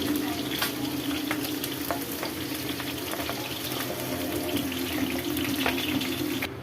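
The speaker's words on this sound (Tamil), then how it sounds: "இந்த எண்ணெயில் நல்லா ஃப்ரை ஆகட்டும்." Constant crackling sizzle of okra frying in hot oil in a pan, loud and close, with occasional stirring clicks throughout.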